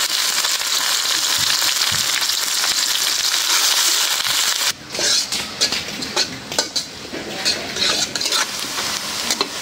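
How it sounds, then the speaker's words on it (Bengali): Garlic, onion and whole spices such as bay leaf, dried chilli, cardamom, cinnamon and cumin fry in hot oil, a loud continuous sizzle that abruptly drops into irregular clattering spatula stirs and scrapes against the pan. "পেঁয়াজটা একটু ভাজা নিলাম"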